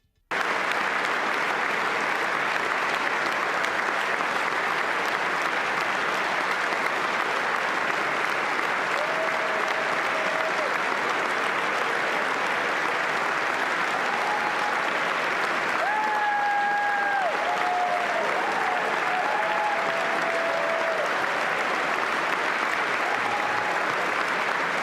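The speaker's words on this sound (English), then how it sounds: "Who is cheering him? Yo, did y'all hear that? Who's cheering him?" A large crowd in a congressional chamber applauds without letup, a dense wall of clapping and cheering that holds for the whole stretch, with a few faint voices rising through the roar.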